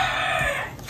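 A rooster crows loudly and continuously through the whole moment, a sustained drawn-out call with no talking over it.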